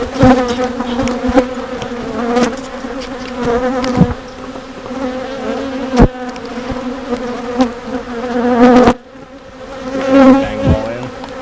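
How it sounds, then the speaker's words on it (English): Honeybees swarm thickly on a hive's bottom board, a close, loud, wavering buzz with a steady hum that swells and dips, broken by a few sharp knocks. "Oh, mess of bees on the bottom board."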